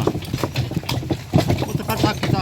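Sturdy work horses clop along with repeated hoof strikes at a steady walking rhythm, fairly close, mixed with voices talking over them.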